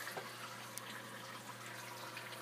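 Water trickles down from an aquarium setup into the sump below, a soft continuous splashing wash with a low steady hum underneath, faint and without speech.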